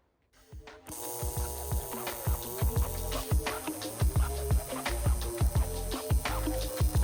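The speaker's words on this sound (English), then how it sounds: "One dab, flip it over, another tack weld, flip it over, another tack weld" Tack welding on intercooler piping for a turbo BMW E30 gives a steady electrical buzz with repeated sharp crackling bursts in quick succession, loud and close.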